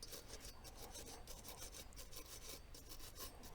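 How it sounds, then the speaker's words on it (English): Steady rhythmic rubbing of a rag over the metal baffles of a Liberty Mystic X suppressor during cleaning, a close, quiet scrubbing rasp repeated in quick, even strokes with no talk. "Just wipe off the baffles with a rag"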